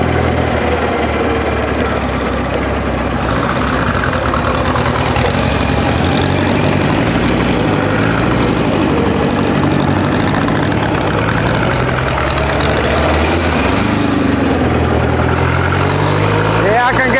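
A 1939 Indian 439 four-cylinder motorcycle engine idles close by, a steady low rumble that runs continuously for the whole stretch, with wind-like broadband noise over it.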